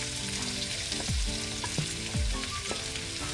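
Onion, green chili and curry leaves sautéing in a pan for chicken curry, a constant bright sizzle with occasional scraping stirs and clunks of a spoon against the pan.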